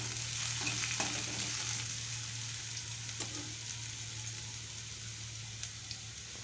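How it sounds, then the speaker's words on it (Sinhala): Finely sliced onions frying in oil for semolina upma, a steady close sizzle with a continuous hiss and a few light stirring clicks over a low hum. "ඊළඟට මම සිහින්ව ලියාගත්ත ලූණු ටිකකුත් එකතු කරගන්නවා."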